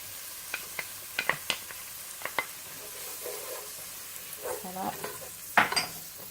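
Onions and garlic cook in a pot with a faint, soft sizzle, punctuated by sharp utensil clicks and scrapes against the pot, close and quiet.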